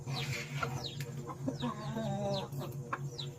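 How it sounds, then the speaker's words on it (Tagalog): Several chickens cluck and murmur close by, with occasional sharp chirps and squawks over a low rural background. "Nagpapakain ng mga alaga kong manok."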